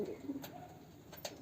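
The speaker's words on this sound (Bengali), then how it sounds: "এই হলো পায়রা।" Pigeons of a standing Phulshira pair at a fancier's home loft in Barasat give a soft, faint cooing at the start, then a quiet murmur of low bird sounds in a hushed room.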